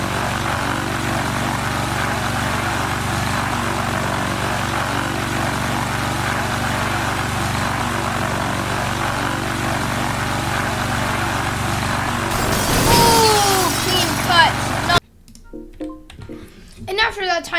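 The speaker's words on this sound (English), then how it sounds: "after that tiny little plane crashed" Small propeller plane in the video game Teardown flies with a steady droning engine hum, then crashes in a brief burst of noise before a voice starts talking.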